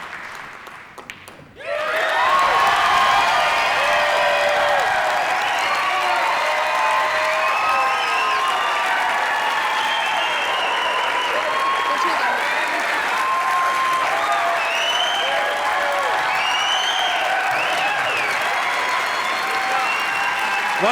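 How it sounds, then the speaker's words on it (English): After a brief quieter moment, a crowd at a professional women's pool championship final bursts into loud, sustained applause and cheering that holds steady for the rest of the stretch. "The crowd absolutely loving it."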